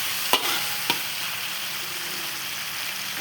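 Chilli paste frying in a pan for petai sambal with anchovies, a steady hissing sizzle throughout, with two sharp utensil taps against the pan early on, no talking.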